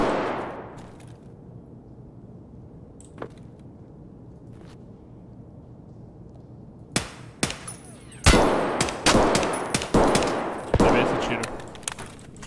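Quiet ambience with a few isolated pops, then bursts of rapid gunfire in Escape from Tarkov, loud and clustered, with sharp cracks repeating in quick succession.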